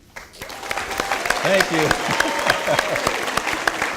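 An audience claps steadily in a lecture hall as a business school speaker series host is welcomed, with a voice speaking briefly over the applause.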